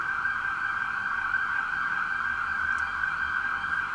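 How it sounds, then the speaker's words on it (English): A steady siren holds one sustained high tone throughout, fairly loud and continuous, with faint traffic rumble beneath and no voices. "Wait for the siren to pass."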